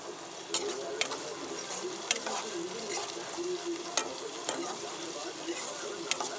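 Onion and garlic for a sardine curry sauté in a pan, giving a soft, steady sizzle with light scraping taps from stirring at intervals, fairly quiet throughout.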